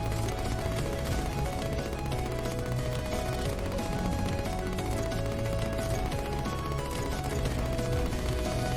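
Rapid, unbroken gunfire from a weapon in modded Terraria (Shadows of Abaddon) during a boss fight, a loud, dense stream of shots layered over game music.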